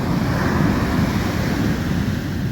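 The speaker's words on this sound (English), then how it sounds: "These are big waves coming in." Big ocean waves roll onto a steep sand beach on the Oregon coast, a loud continuous roar of surf with wind buffeting the microphone, no talking.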